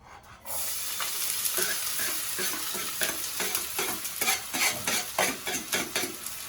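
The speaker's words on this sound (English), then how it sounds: "Onions go into it. Fry your onions for like maybe" Onions sizzle and fry in a pot, loud and close, with a constant hiss and a run of quick rhythmic stirring scrapes that grows busier toward the end.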